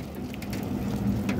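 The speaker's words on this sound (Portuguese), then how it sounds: "Já começou a chuva." Rain begins to fall in the Brazilian sertão along the BR-230 Transamazônica highway, making a steady, dense patter with no speech over it.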